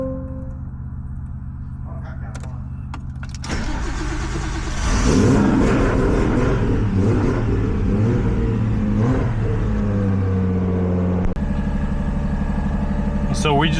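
A car engine idles steadily with a low continuous hum during electrical diagnostics on a CM Skyline, the engine note rising and thickening partway through, while a person speaks over it.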